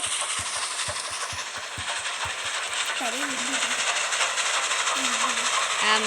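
Rhythmic clickety-clack of a video game train rolling along the tracks under steady hiss and rumble, with a voice briefly speaking partway through.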